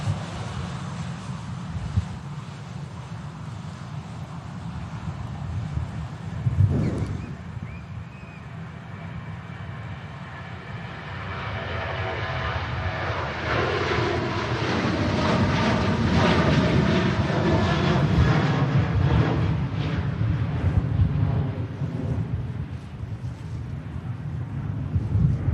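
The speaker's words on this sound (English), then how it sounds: "Here goes the flight to Copenhagen" An airliner bound for Copenhagen takes off from Manchester Airport, jet engine roar swelling into a loud sustained rumble with a rising whine in the second half, some wind noise and occasional faint talk.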